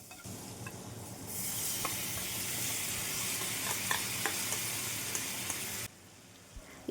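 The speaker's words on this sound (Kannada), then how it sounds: "ಇವಾಗ ಒಗ್ಗರಣೆ ಹಾಕೊಂತ ಒಂದು ಪ್ಯಾನ್ ಇಟ್ಬಿಟ್ಟು ನಾವು ಬೆಣ್ಣೆಲಿ ಒಗ್ಗರಣೆ ಹಾಕ್ಕೊಳ್ಳಿ" Spices tempering in butter in a frying pan break into a steady, loud sizzle after a quiet start, holding for several seconds with faint stirring clicks before stopping abruptly.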